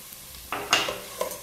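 Risotto rice being stirred in a pan, a few scraping, rustling strokes with a faint sizzle, close and fairly quiet, with no talking.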